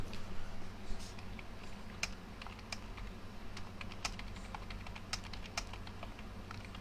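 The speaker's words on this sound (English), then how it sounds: "I'm gonna type out a post" Typing on a computer keyboard: soft, close, irregular keystroke clicks in quick bursts over a quiet background hum, with no speech.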